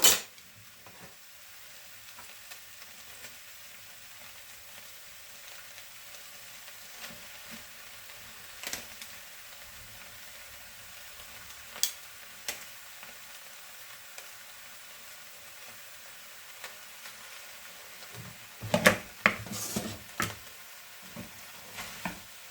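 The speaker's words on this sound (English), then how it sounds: "the vegetables softened down, and then I'm going to put egg noodles in" Egg noodles being stir-fried with softened vegetables in a home-kitchen pan give a soft, steady sizzle and stirring, with a short burst of louder clattering and scraping near the end.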